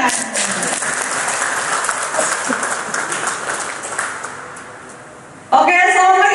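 An audience at a corporate leadership talk claps steadily for several seconds in a fairly close, loud burst of applause that thins and fades before a voice begins speaking.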